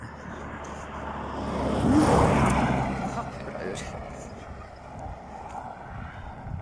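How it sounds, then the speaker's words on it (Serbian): A car speeds past on a road during a walk on a hot day, swelling to a loud broad whoosh around the two-second mark and then fading into steady outdoor ambience; there is no talking. "kako juri auto"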